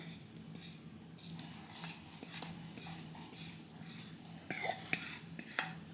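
Spinach cake batter for a dog's birthday cake is scraped and poured from a bowl into a cake pan, with intermittent quiet clinks and scrapes of a utensil and no voices.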